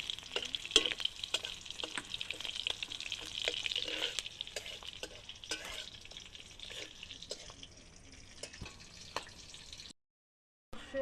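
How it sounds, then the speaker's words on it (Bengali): Slit green chilies and black cumin seeds fry lightly in oil for a katla fish dish, giving a soft, moderate sizzle with scattered ticks and pops from stirring, fading toward the end after a brief dropout. "একটু চেরা কাঁচা লঙ্কা আর কালো জিরেটা ভালো করে একটু ভাজা ভাজা হালকা করে নেব।"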